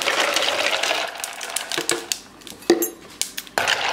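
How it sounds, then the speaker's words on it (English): Ice cubes dropped into a container of Southern-style sweet tea, a series of sharp clinks and clatters at close range, several distinct knocks spaced irregularly over a soft background. "Okay, so now that I have my ice, I'm going to just add my ice to this"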